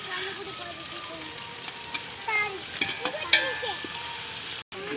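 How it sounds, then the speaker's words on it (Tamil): Onions, tomatoes, chillies and ginger-garlic paste sauté in a pan for chicken biryani. A soft, close sizzle runs under scattered scraping stirs, with someone talking faintly. "இப்போ தக்காளியும் மிளகாயும் போட்டுக்கணும். இஞ்சி பூண்டு பேஸ்ட்டு சேர்த்துக்கலாம்."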